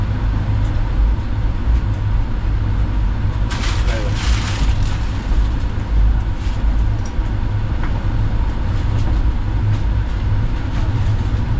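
A first-class passenger train pulls into Ratnagiri railway station, heard as a loud, continuous low rumble with a brief brighter rattle midway, with faint murmuring in the background.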